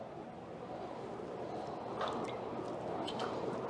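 Fresh lime is squeezed by hand into water, with soft wet squishing and a few faint drips over a steady low background hiss.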